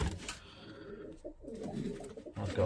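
Cock pigeon in a loft giving low, soft coos close by, several short rolling phrases over quiet shuffling background.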